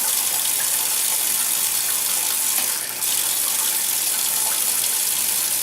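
Water pouring steadily into an ice cube tray, a continuous close hiss of running flow with one brief dip near the middle.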